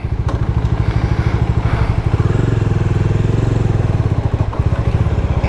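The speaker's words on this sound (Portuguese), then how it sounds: "Como tem que vibrar toda moto monocilíndrica, né?" Bajaj Dominar 400 single-cylinder motorcycle engine while riding, a loud, close, rapid thumping pulse with vibrating clatter that holds steady throughout.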